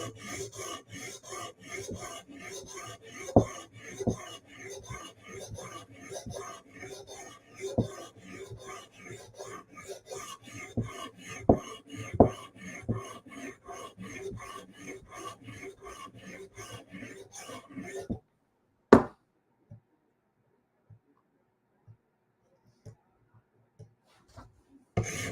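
Hinderer knife being sharpened on a Hapstone RS guided sharpener, a close, continuous scraping of stone on steel in rapid repeated strokes with occasional clicks, then stopping abruptly and leaving a few scattered taps and near silence.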